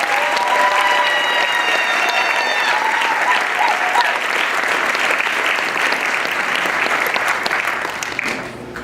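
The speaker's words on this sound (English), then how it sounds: "let's give a round of applause to all of our winners" Loud, dense applause from a large audience at an entrepreneur awards ceremony, honoring the winners, sustained for several seconds before tapering slightly at the end.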